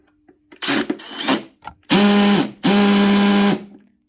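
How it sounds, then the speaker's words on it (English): A Makita drill on clutch setting 3 drives a screw into a test block: a short whirring start, then two strong, steady bursts of motor whine with a brief pause between, close and loud, with no talking. "we're going to start with a number 3 and try and put a fixing into our test block"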